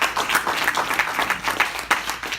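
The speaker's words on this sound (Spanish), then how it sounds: "Dale un aplauso a mí." Church congregation gives a brief burst of clapping, dense and fairly close with no voices over it.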